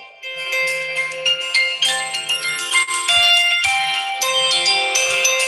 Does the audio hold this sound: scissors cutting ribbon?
no